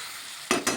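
Pointed gourd pieces frying in a wok, two quick scraping stirs bursting over a quiet sizzle, close and loud with no voices.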